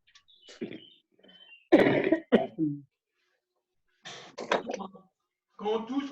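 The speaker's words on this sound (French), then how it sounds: "C'est moi qui tousse" A person coughs and clears their throat in several separate bursts, close up, with quiet gaps between them.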